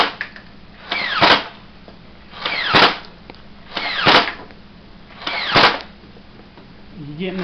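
A motorized Nerf blaster whirs and fires four times at an even pace, each shot a sharp mechanical whir-and-thunk close to the microphone, with quiet gaps between.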